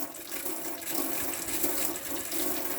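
Water spits and splutters from a tap on board an FC Compass Liberte caravan while the water pump fills the system, an uneven gushing with surging pulses, close and fairly quiet.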